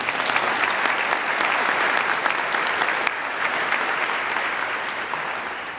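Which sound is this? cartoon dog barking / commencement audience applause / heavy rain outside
commencement audience applause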